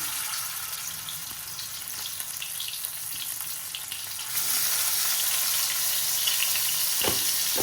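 Prawns frying in hot oil give a steady close sizzle with no voices, and the sizzle swells louder midway through as the prawns settle into the pan.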